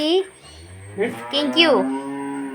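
Cows moo on a farm cowshed, a couple of long drawn-out bellows close by, rising and falling in pitch against a quiet background.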